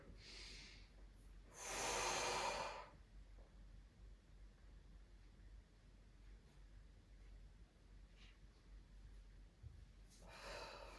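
A person doing a gentle abdominal exercise takes one loud, forceful breath near the start and another toward the end, with a quiet room in between.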